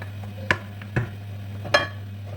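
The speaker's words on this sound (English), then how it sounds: "Mix it thoroughly, guys." Spoon stirring vegetable soup with soft fish in a pot, three faint clinks against the pot over a steady low hum.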